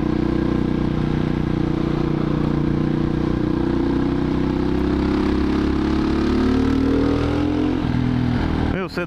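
A 2007 Husqvarna SM610 motorcycle engine runs steadily close by, its pitch shifting as it drops a gear and pulls away, ending with a brief clatter.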